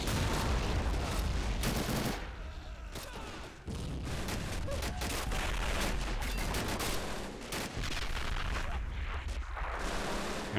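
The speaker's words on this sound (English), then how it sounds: "The artillery landing right now." Artillery and mortar shells landing on a beach at Pointe du Hoc in a realism-modded war video game, a dense, continuous barrage of booms and rumbling blasts with crackling gunfire mixed in.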